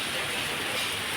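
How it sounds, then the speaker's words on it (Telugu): Steady rain falls during a wet-season afternoon at a home, a soft continuous hiss with no pauses, fairly faint and even throughout. "ఆగాగి వర్షం పడుతూనే ఉందండి"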